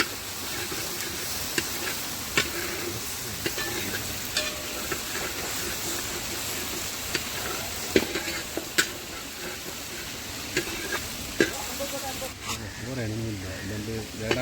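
Prawn roast masala being stirred and fried in a pan, a constant sizzling hiss with scattered ticking scrapes of the spoon, while a voice talks over it.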